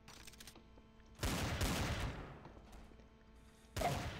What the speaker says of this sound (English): Don't shoot guns.